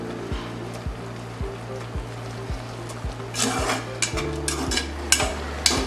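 A thick carrot halwa mixture bubbles at a steady simmer in a pot while a spoon scrapes and stirs in regular strokes, ending with a few louder clinks.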